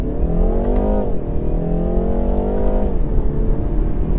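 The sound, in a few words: BMW 330i Touring accelerating hard toward 60 mph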